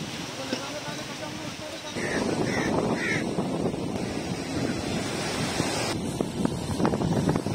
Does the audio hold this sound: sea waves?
yes